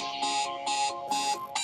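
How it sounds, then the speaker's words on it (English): A game timer alarm goes off in a repeating pattern, four loud electronic beeping bursts in under two seconds, close and with no voices over it. "it's going to be the timer sound."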